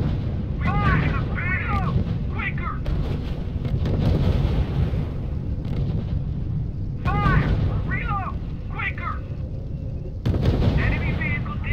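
Sustained gunfire and booming artillery in the R.U.S.E. strategy game, dense rumbling blasts and crackling shots running throughout, with spoken unit radio reports over the battle.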